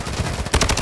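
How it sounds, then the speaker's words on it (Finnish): Gunfire in Call of Duty: Warzone 2.0 on PS4, a short loud burst of rapid shots that starts partway through, with steady game noise underneath. "Vittu joku ampuma."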